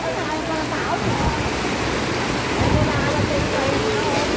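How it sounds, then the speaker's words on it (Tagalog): Heavy rain pours steadily during a typhoon, a dense unbroken wash of noise close by, with a voice rising briefly over it. "Pumapatak na naman ang ulan."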